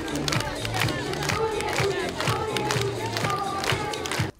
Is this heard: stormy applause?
yes